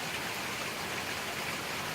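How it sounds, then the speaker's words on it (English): Heavy tropical rain pours steadily on a Southern Memorial Day, a dense, even hiss with no break, fairly loud and close, with no voices over it. "it is raining this Memorial Day."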